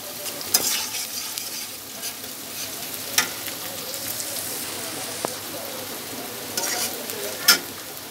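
Mixed vegetables frying in a pan until browned, a dense steady sizzle like rain on a surface, with sharp spatula scrapes and clinks scattered through it, close and fairly loud.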